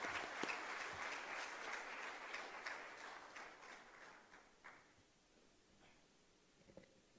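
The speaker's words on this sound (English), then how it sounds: "Please join me in welcoming Professor for his opening remarks with a huge round of applause." An audience at a college conference applauds in a dense, even patter of many hands, fairly faint and gradually thinning out toward the end.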